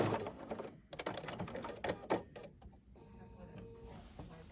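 Bernina sewing machine stitching decorative pattern stitches on a quilting project, a fast mechanical rattling run up close, then a softer steady hum.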